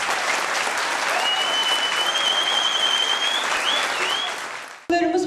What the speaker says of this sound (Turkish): Hepsi için kuvvetli bir alkış istiyorum.